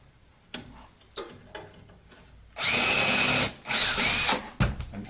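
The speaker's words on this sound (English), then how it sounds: "And I'll drill the second one down here." A power drill bores through aluminum aircraft spar metal for a Bearhawk, a few short taps followed by two loud, sustained bursts of drilling close by, then a brief final whir.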